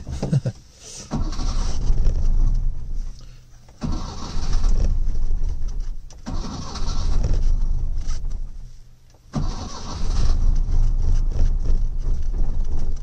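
A Lancia Flavia Milleotto LX engine on full choke cranks repeatedly in several long bursts of loud, close churning starter noise, separated by brief pauses, without catching.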